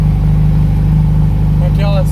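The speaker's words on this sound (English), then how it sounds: "It's running pretty good for a cold start right here." Engine of a replica Porsche 718 RS-60 Spyder running steadily at a fast idle just after a cold start, a loud close hum with a brief higher whine near the end.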